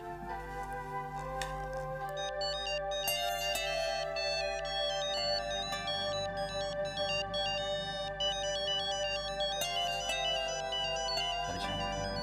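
A mobile phone plays a loud, steady, melodic ringtone that repeats a bright looping tune alone for about twelve seconds.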